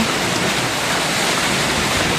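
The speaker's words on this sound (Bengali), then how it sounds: "দেখেন বৃষ্টি পড়তেছে বাতাস" Heavy monsoon rain with gusting wind in a rural village, a loud, steady broadband wash of falling water that stays dense and unbroken throughout, with no voices.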